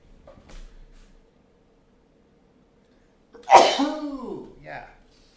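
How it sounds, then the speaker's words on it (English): Person at a computer letting out a single sharp, loud sneeze close to the microphone after a few seconds of near silence, trailing into a brief voiced exhale. "Uh-oh, I have to sneeze."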